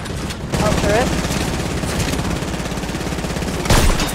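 Rapid automatic turret gunfire in the Fortnite video game, a dense, steady rattle of shots running nearly the whole time, close and loud, with brief bursts of louder crackle near the end and a voice speaking over it.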